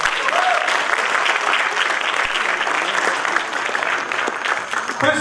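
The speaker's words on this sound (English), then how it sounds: "Give her a big round of applause" A loud, continuous round of applause fills a Toastmasters meeting room, with a few voices mixed into the clapping throughout.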